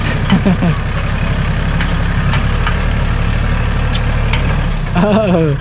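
A tractor engine idles steadily up close, a low rumbling chug with knocking pulses, and voices talk over it briefly.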